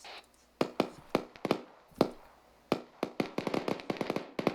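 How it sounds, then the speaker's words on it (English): Sharp cracking gunshots ring out in irregular bursts during a military field training exercise in woods, some single, some in rapid clusters, fairly close and loud against a quiet background. "There's gunshots coming from the... Right around there"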